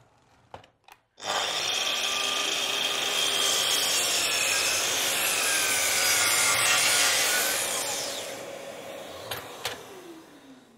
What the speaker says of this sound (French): Je fixe la pièce et je commence à scier.